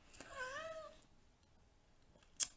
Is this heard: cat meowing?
yes